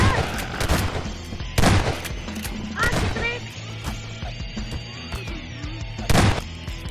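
Garry's Mod gunfire comes as scattered heavy shots and bursts over a noisy game background, loud individual blasts spaced a second or two apart while people chatter.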